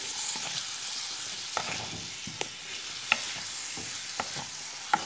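Chicken pizza filling cooks in butter in a frying pan, a soft continuous sizzle broken by a few sharp utensil clicks, near and steady with no voices.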